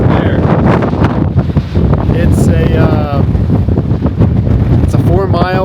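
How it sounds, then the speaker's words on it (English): Strong gusting wind on a summit trail in Utah's Henry Mountains buffets the microphone in loud, rough roars, with a voice faintly heard through the blustering. "But it's so windy, I think I'm gonna set up camp"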